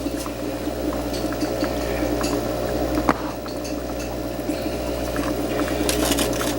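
Water sloshing and splashing in a container as dirt is washed off the roots of indoor hydroponic lettuce, a steady close, liquid churn with one sharper splash midway and light clinks throughout.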